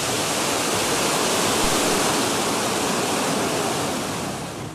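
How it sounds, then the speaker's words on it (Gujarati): Water roars from four opened gates of the Kadana dam on the Mahisagar river in Gujarat during heavy monsoon inflow, a loud, steady, dense rushing torrent that holds evenly throughout. "ચાર ગેટ ખોલતાની સાથે જ કડાણા ડેમના ધસમસતા પાણી વહી નીકળ્યા."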